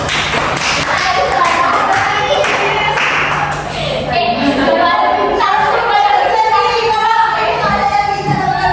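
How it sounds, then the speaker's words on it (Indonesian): Classroom of children clapping hands, in a few bursts of close, uneven claps and thumps, with kids' voices talking over and between them. "Tepuk tangan buat saya"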